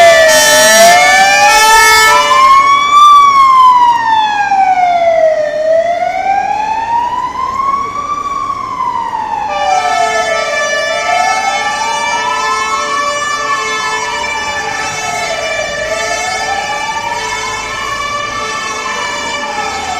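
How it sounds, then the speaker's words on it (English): A fire engine siren wails loudly along a Barcelona street, its pitch sweeping up and down in slow cycles before switching to a faster, steadier warble as the truck passes, with street bustle underneath. "This is the fire engine finally coming through."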